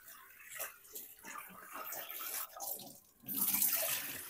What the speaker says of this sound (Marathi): राईस आता आपण मस्त स्वच्छ पाण्याने धुवून घेऊ